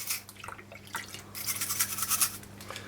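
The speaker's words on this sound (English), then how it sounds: "give it a good scrub with the toothbrush" A toothbrush scrubs the cylinder of an Uberti 1851 Colt Navy revolver during cleaning, rapid close bristly brushing strokes in an uneven back-and-forth rhythm, faint and continuous with no talk.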